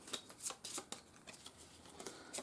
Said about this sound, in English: So we'll just give the French cards a shuffle.